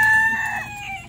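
A short, close burst of clucking from Silkie chickens foraging outdoors near a berry bush, with no talking.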